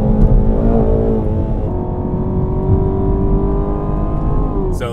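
A Shelby GT350 sports car engine drones loudly and steadily on the Angeles Crest Highway canyon roads, a deep growl holding pitch with slight rises as it drives, no voices.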